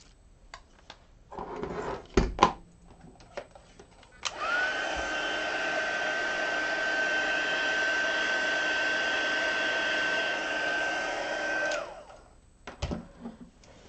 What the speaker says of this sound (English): I want to make sure it's dry, so I'm going to hit it with the heat tool for just a second